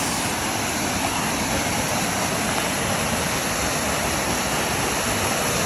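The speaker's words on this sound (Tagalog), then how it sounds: "Dito pala yung isang falls." The Momiji-taki waterfall in Japan in summer sends out a dense, loud and constant roar of falling water, unbroken and with no voices.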